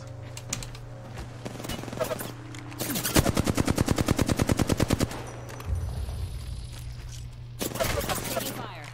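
Gunfire in the Apex Legends video game, a rapid automatic burst of evenly spaced shots lasting about two seconds, with scattered single shots and game sounds around it and a player talking briefly.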